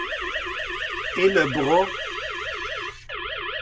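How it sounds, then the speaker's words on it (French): An Aqara smart water leak alarm sounds at the bottom of a staircase, a loud, rapidly warbling electronic tone that repeats continuously, briefly cut off near the end, while someone speaks French over part of it. "j'ai une alarme qui sonne au bas de l'escalier"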